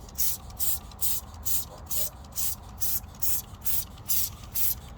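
A trigger sprayer of Meguiar's Hot Rims black wheel cleaner is pumped in about ten rapid, evenly spaced hissing bursts, close and steady, with no voices.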